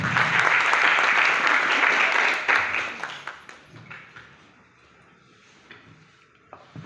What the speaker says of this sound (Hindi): मैं चाहता हूं एक बार आप स्वयं के लिए जोरदार तालियां बजाएं।